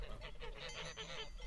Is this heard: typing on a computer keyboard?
no